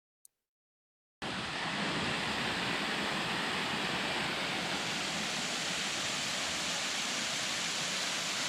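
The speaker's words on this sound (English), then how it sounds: "The top of the flume is Avalanche Falls, a dramatic 45-foot waterfall." Avalanche Falls, a 45-foot waterfall at the top of a flume in Lincoln, New Hampshire, roars as a steady, loud broadband rush after about a second of silence, with no voices.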